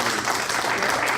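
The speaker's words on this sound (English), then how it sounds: "Let's give a round of applause for the Consul General of India" A crowd at a Spring Summit in Chicago applauding the Consul General of India, a brief dense burst of clapping, loud and filling the room, with faint voices underneath.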